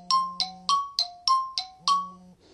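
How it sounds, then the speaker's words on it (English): A run of iPhone default alert tones on iOS 6 plays alone, about seven short bright chimes and dings in quick succession, each striking sharply and ringing out briefly, with a faint soft tone closing the sequence. "alert tones."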